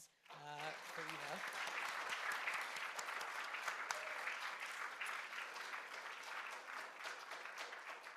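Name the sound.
audience applause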